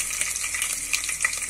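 Garlic sizzling in hot oil with cumin, mustard seeds and red chili for a ridge gourd curry: a steady bright crackle with small pops and spatters, close and continuous.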